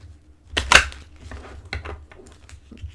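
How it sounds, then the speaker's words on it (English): Oracle and angel cards being shuffled close by: a sharp riffling burst followed by softer papery flicks and slides, quiet and irregular, with no voices. "Next, let me shuffle these once or twice."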